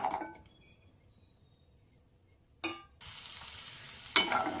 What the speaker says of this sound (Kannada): ಹಾಗೆ ನಾವು ಫಸ್ಟ್ ಹಲಸಿನ ಬೀಜಗಳನ್ನ ಚೆನ್ನಾಗಿ ಫ್ರೈ ಮಾಡ್ಕೋಬೇಕಾಗುತ್ತೆ